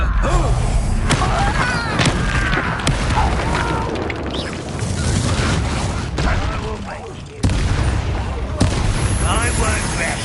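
Confringo explosive spell in Hogwarts Legacy, repeated sharp blasts and booming impacts scattered through a busy battle, with magic whooshes and voices talking over the combat.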